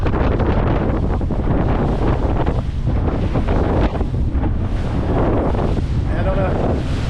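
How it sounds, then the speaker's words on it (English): Sizable sea waves wash and slap around a small boat off Portugal as strong wind buffets the microphone, a loud, continuous roar with surging swells, close and unbroken. "there's some sizable waves around here"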